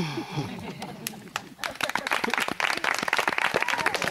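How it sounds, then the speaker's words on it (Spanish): Clapping from a small group during a walking tour of old mills, starting after some talk and building into brisk, close, uneven applause mixed with chatter. "Mira cómo aplaude, qué bonito."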